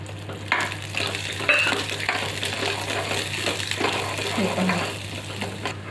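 Semolina roasting in a pan while being stirred gives a soft, continuous sizzle with scraping stir sounds and occasional light clinks.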